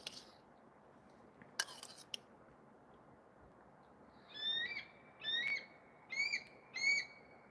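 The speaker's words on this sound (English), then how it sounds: "It's an eagle." An eagle calls four times in quick succession, each a high, piping, slightly wavering note, after a quiet stretch with a couple of brief clicks and faint background noise.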